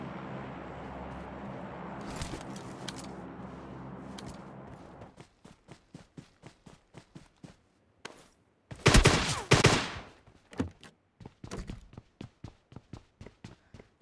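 Gunfire in the PUBG Mobile Lite battle-royale game: a rapid train of sharp shots, a dense loud burst in the middle, then scattered single cracks, heard over fainter footsteps and ambient game sound.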